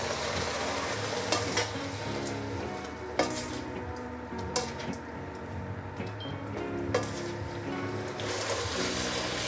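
Pan-seared pork belly hits a hot pan and sizzles steadily and loudly, with stirring scrapes and occasional utensil clinks over the continuous frying hiss.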